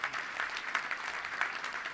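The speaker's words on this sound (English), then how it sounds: "give them a round of applause" A room at a Little Rock Touchdown Club luncheon claps for two guests, a steady even patter of many hands running the whole time at moderate loudness.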